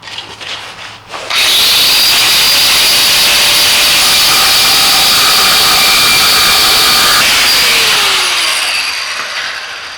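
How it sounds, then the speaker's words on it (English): Cutoff wheel slicing an opening in a boat hull, a loud sustained high-pitched grinding whine that starts abruptly after a second and holds steady, easing off near the end, with no talk. "take my cutoff wheel, and connect the dots"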